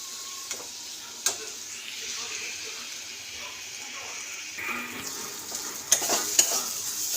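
Spice masala for a paneer curry cooks down in a pan, giving a soft continuous sizzle with occasional scrapes and taps of a spoon, a few louder clatters near the end, and no voices.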